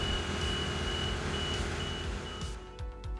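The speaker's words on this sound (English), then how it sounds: "The descent alarm should sound when the boom is lowering." A Genie SX-180 boom lift sounds its steady descent alarm while the boom lowers, repeated regular beeps over constant machine hum and engine noise, fairly faint against the background.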